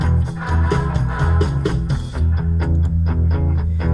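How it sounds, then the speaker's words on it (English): Electric lead guitar playing a melodic line with a wide reverb wash; notes ring out and tails blend together over a steady backing. "Some reverb."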